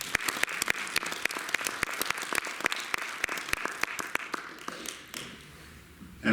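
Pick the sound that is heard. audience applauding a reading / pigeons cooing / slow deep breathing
audience applauding a reading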